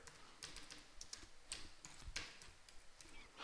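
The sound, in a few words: typing on a computer keyboard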